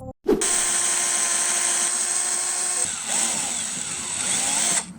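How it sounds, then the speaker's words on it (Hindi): Power drill whirring steadily as it bores a hole in a plastic steering part for a DIY RC car, loud and continuous, with a brief start and a pitch shift partway through before it stops. "तो यहाँ पर मार्क करके इसे होल करेंगे।"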